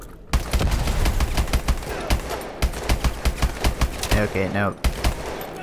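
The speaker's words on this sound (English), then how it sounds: "I was shooting and they weren't dying." Rapid bursts of automatic gunfire sound in Call of Duty: Advanced Warfare, with dense rattling volleys and a few isolated shots, while someone speaks briefly over the shooting.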